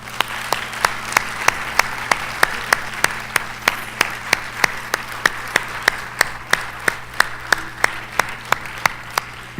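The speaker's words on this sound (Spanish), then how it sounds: "Den un aplauso al Señor" An audience at a church conference on the Garden Tomb in Israel claps together in a steady, even rhythm for the Lord, about three claps per second, loud and close over a low constant hum.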